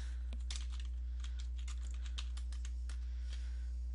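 Rapid typing on a computer keyboard, a steady run of close, crisp key clicks with uneven rhythm over a constant low electrical hum, no voices.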